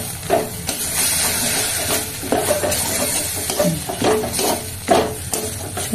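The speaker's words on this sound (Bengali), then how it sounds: "ভালো করে কষিয়ে নেব" Ground masala paste sautés in a pan for egg curry with potatoes, a loud continuous sizzle and hiss punctuated by irregular scraping stirs.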